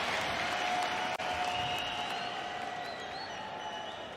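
An arena crowd at the PGL Major Antwerp 2022 Counter-Strike match between FaZe and Spirit on Mirage cheers and applauds in a loud, sustained roar, with faint whistles and tones rising through it, easing slightly toward the end.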